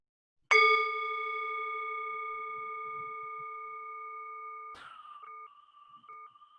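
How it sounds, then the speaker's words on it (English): A bell struck once at a gathering, a clear ringing tone that sustains and slowly fades over several seconds before a second, softer strike sounds near the end, with no talk. "Let's ring the bell one more time."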